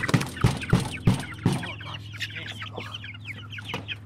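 Farm chickens clucking close by, a run of sharp rhythmic clucks at first, then softer scattered calls over a steady low hum.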